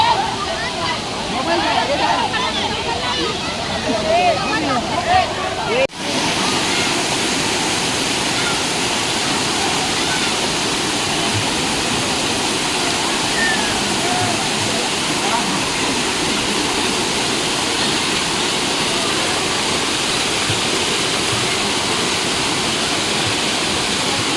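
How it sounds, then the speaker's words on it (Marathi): Panwal waterfall roars as a steady, dense rush of falling water, loud and unbroken from start to finish after a brief jolt early on. "आम्ही पानवल या ठिकाणी आलो होतो पानवलचा धबधबा पाहण्यासाठी"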